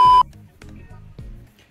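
Mobile phone overheating in hot weather gives a short loud electronic beep at the start, followed by quieter low thumps and faint background noise.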